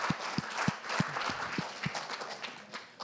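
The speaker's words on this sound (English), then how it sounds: "can we also give an enormous round of applause for our judges?" An audience applauds for the judges at an innovation pitch final, a broad wash of clapping that carries steadily and fades slightly toward the end, with a few sharp low thumps early on.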